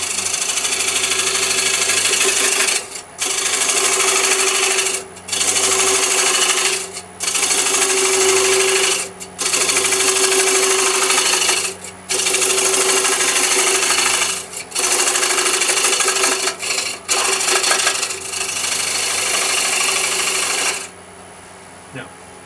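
A router plunge-cuts wood with a 14mm carbide cutter, giving loud, steady high-pitched whining runs of a few seconds each, separated by brief drops, with the motor settling to a lower hum at the end.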